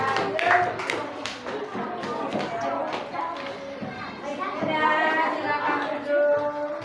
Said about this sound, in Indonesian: Beri tepuk tangan buat kelompok Garuda.